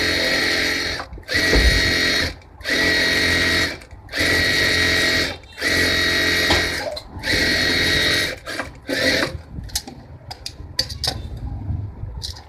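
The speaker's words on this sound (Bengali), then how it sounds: "এখন একটা দ্বিতীয় সেলাই দিয়ে নিব যাতে কোমরটা একটু পোক্ত আর এরকম সুন্দর দেখতে হয়।" Sewing machine runs a second line of stitching on a six-panel petticoat waistband, whirring loudly in six even bursts with short stops between them, followed by quieter handling clicks.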